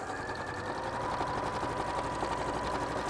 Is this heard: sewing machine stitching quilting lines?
yes